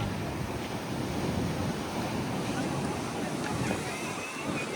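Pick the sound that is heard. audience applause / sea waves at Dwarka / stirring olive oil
sea waves at Dwarka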